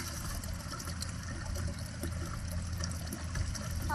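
Water pours into a mixture of cow dung and cow urine with gram flour and jaggery, a faint continuous trickling and splashing outdoors on a farm, with no one speaking.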